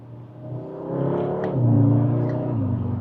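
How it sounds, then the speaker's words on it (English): A 2024 Audi S3 accelerating with a quick automatic upshift, the engine note building to a low rumbling growl, dipping briefly at the gear change and then pulling again, fairly close and with no talk. "I'm not done releasing the flappy pedal control from the steering wheel, and the gearbox has already changed up."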